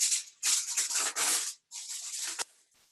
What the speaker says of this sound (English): I'm going to pull off about 4 inches of aluminum foil